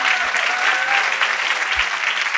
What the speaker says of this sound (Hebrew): מחיאות כפיים ליותם.